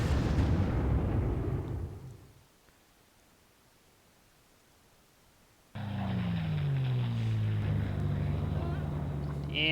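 A level bomber's bombardment in the strategy game Panzer Corps brings a deep rumbling roar of explosions, fading to near quiet before a second loud blast sweeps in and rumbles on with a falling tone.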